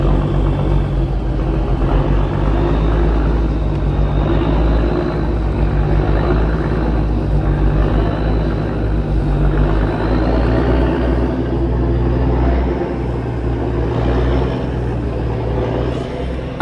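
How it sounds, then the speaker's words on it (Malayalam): A junkar ferry carrying vehicles pulls away from the landing, its loud, steady engine drone throbbing close by without a break. "അങ്ങനെ ജങ്കാർ അവിടെ നിന്ന് എടുത്തു."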